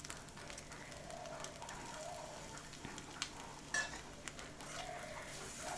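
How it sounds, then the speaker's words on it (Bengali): Shredded cabbage is stirred into frying potatoes in a pan over a medium flame, with a steady, soft sizzle throughout and occasional light scrapes and clinks from the utensil, and no talking. "এবারে এর মধ্যে দিয়ে দেব যে বাঁধাকপি কুচি করে কেটে নিয়েছিলাম সেগুলো।"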